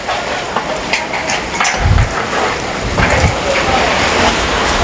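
Heavy rain and gusting wind from strong Typhoon Kristine, a loud continuous roar with a few low thumps and rumbles mixed in, close and filling the whole clip.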